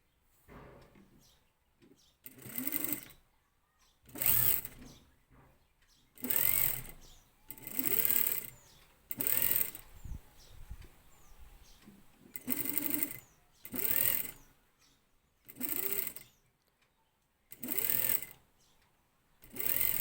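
A sewing machine stitching sleeves onto a blouse runs in about ten short, loud bursts of rapid mechanical whirring, each separated by a brief quiet pause.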